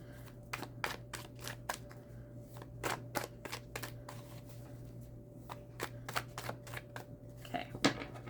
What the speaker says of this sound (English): So I'm just going to quickly shuffle these